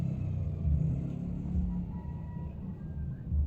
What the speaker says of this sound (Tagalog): Grabe ang mga tingugas motor anak no.